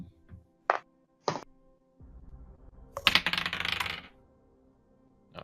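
A gaming die rattles and clatters across a desk and strikes a computer keyboard during a tabletop Dungeons & Dragons session, with a few sharp clicks followed by a brief burst of tumbling clatter, close and fairly loud.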